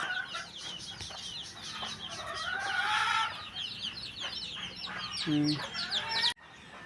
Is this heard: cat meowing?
no